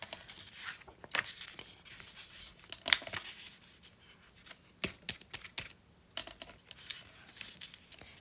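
Scissors snip around paper pieces for a desk set craft, a series of faint, irregular cuts and rustles at close range in a quiet room.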